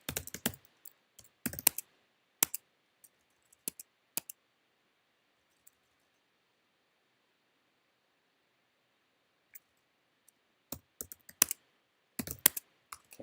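Bursts of typing on a computer keyboard, quick clusters of crisp clicks at the start and end with a long quiet gap between.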